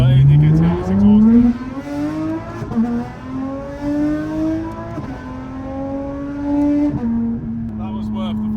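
An Audi RS6 exhaust roars as the car accelerates hard, its pitch climbing through each gear, then dropping sharply at every upshift, three shifts in quick succession, loud and close.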